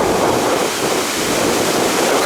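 Waterfalls along Scotland's North Coast 500 roar in a loud, steady rush of falling water, with wind buffeting the microphone.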